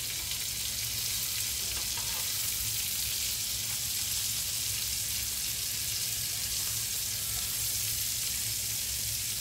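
Potatoes frying in hot oil for steak with fries, a steady, even sizzle that runs loud and unbroken throughout with no talking.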